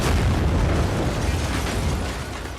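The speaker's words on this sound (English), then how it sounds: "it, boom, huge explosion, all the windows shattered out." A loud, sustained indoor blast in a boarded-up downtown bank, with a dense roar of rumble, crackling debris and shattering windows, fading slightly toward the end.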